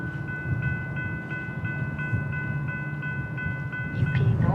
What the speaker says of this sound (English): Oh, that looks like a train.